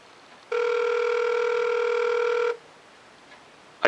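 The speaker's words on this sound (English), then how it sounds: "I'm going to call his phone. Alright, so it's calling." Outgoing phone call ringing over an iPhone speaker: one steady two-second electronic ring tone, loud and clear against quiet room noise, with no talking.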